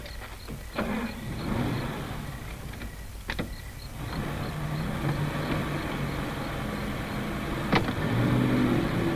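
Steady car engine drone and road rumble from inside a 1940s car, with a few sharp clicks and knocks over a continuous low hum, no talking.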